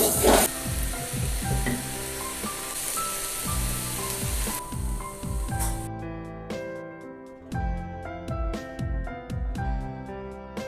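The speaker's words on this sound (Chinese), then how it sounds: "咱们放入青椒丝，简单翻炒两下，把青椒丝炒至断生的状态。" Shiitake mushrooms with green pepper strips stir-fry in a hot wok, with loud continuous sizzling and repeated scraping and tossing of the spatula, the hiss dropping back partway through as the frying carries on.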